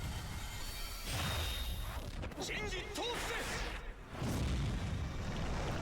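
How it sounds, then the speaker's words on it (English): A flashbang detonates in the video game Warriors: Abyss, a loud booming burst over constant game noise, with a voice talking across the middle and a second heavy rumble near the end. "Flashbang."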